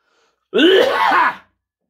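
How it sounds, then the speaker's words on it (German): A single harsh, throaty cough or throat-clearing rasp close to the microphone, lasting under a second, surrounded by silence. "Ja, dieses Husten hast du verdient."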